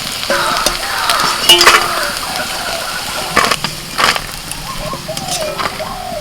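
Fig fritters made with sesame and gram flour fry in hot oil, a continuous sizzle broken by sharp clinks and scrapes of a utensil against the pan, close by and fairly loud.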